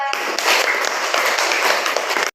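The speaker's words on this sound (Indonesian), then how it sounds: "kita kasih tepuk tangan dulu buat kelompok 2" A classroom of students applauds a group after its presentation, a dense, steady burst of many hands clapping together at close range for about two seconds before it cuts off.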